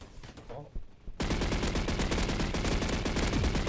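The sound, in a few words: gunfire from a Roblox FPS video game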